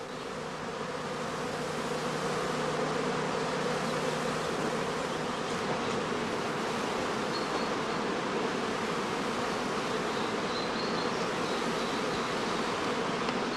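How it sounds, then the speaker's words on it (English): Honey bees at the entrance of a straw skep hive swarm in heathland in northern Lower Saxony, making a dense, continuous buzzing drone that stays loud and close throughout. "The experienced beekeeper can tell from their behavior at the entrance whether the bees are about to swarm."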